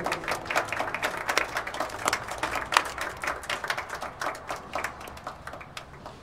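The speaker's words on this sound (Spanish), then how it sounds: "Un aplauso para el niño Humberto Grieve" Applause for the pupil Humberto Grieve in a Spanish audiobook of César Vallejo's story, a dense, steady patter of many hands clapping throughout, fairly close and uniform, with no talking.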